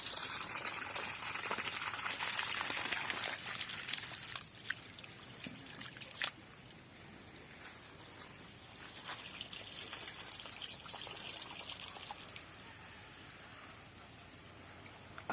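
Water flows faintly in a village setting, a soft continuous trickling hiss that is strongest at first and then settles into a quieter, steady wash with no voices.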